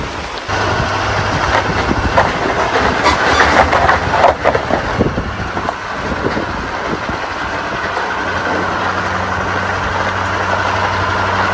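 A tractor engine runs steadily nearby, a loud continuous rumble that swells briefly with some rattling as it drives up a hill, before settling back to an even drone.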